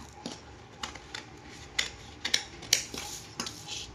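Scissors cutting blouse fabric, with soft, close snips and faint metallic clicks repeating at an uneven pace in a quiet room.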